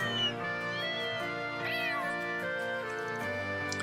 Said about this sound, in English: It plays a collection of cute cat sounds I recorded in the capital.